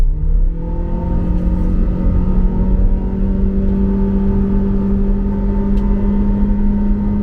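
A 2023 Honda BR-V with a DOHC engine and CVT accelerates in sport mode, heard from inside the cabin as a steady, loud engine drone whose tones rise smoothly without shift breaks over a low road rumble.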